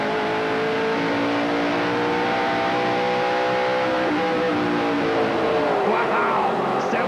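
A NASCAR stock car at the 2008 Trois-Rivières Grand Prix screams at high revs down a straight, then the pitch drops abruptly as it brakes hard for a corner; loud, steady engine with crowd noise behind.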